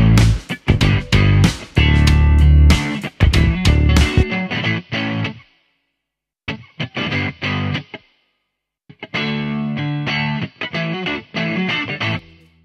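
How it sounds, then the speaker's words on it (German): Music run through a low-quality reverb plugin stops abruptly several times, each cutoff leaving a short metallic ringing tail before silence; loud and close, with no talking. "hörst du, wie gerade im Beispiel, so ein bisschen so einen metallischen Nachklang"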